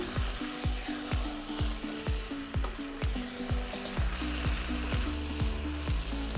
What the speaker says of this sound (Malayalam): ഇനി ഇതിലേക്ക് ആവശ്യത്തിലേറെ മല്ലിയിലയും കൂടി ചേർത്ത് കൊടുത്ത് നന്നായിട്ടൊന്ന് മിക്സ് ചെയ്തെടുക്കാം